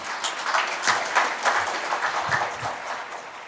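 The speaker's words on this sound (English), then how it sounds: "Can we please have a huge round of applause for sir?" A conference audience at an entertainment-industry roundtable applauds steadily and fairly loudly, a dense wash of many hands clapping with no speech over it.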